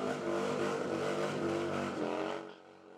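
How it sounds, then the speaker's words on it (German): Harley-Davidson motorcycles roaring through the streets of Hamburg during a biker event, a loud sustained engine rumble with layered revving tones that fades near the end. "Am Wochenende knattern wieder die Motoren durch die Hansestadt."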